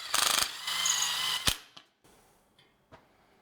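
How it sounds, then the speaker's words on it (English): A power drill driving screws into the bottom sides of shelf panels for a DIY propagation shelving unit: two loud whirring bursts, a sharp click, then a few fainter taps and clicks alone. "If I screw in from the side at the bottom of these panels, I can just slot the light in."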